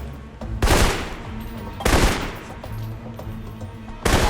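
Rifle shots ring out in the video game Alpha Protocol, three loud separate cracks spaced over a few seconds, each with a ringing tail into a quiet background.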